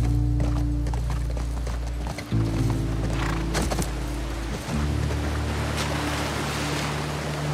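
Horse hooves galloping in a steady clip-clop rhythm in the video game The Last of Us Part II, over a constant low rumble of wind and water, with no voices.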